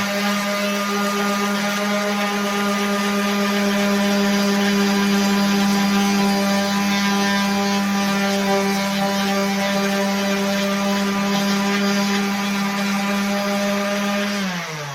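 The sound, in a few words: 5-inch random orbital sander with 40 grit pad sanding metal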